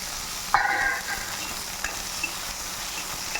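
Sliced brinjal (eggplant) dropped into hot oil, with a brief burst of spattering and sizzling followed by a soft, steady fry and an occasional faint stir or clink close by.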